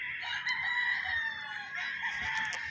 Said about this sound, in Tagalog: Ito lahat tong dito mga manok nitong nakatali dito.